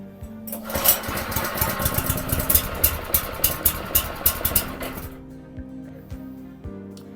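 A Highline GX160 petrol engine on a pressure washer is pull-started and roars into a loud, rapidly throbbing run for several seconds up close, then cuts out and leaves a fading low hum.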